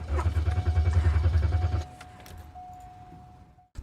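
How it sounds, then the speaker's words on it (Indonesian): A car buried in snow cranks with a rapid, low, rhythmic churning for under two seconds without catching, then falls quiet under a faint steady tone and a small knock at the end. "Lalu Matt berusaha menyalakan mobil."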